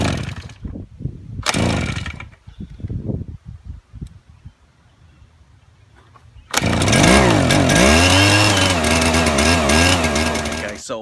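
Hudson 18539 gas-powered Bak-Pak backpack power duster sprayer is pull-started with half choke: a few clattering cranks and rustling, then the small two-stroke engine fires and runs loudly, revving unevenly.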